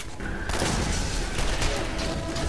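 An explosive barrel bursts amid gunfire in the Borderlands video game, a sudden broad blast that rolls into sustained loud crackling and rumbling combat noise.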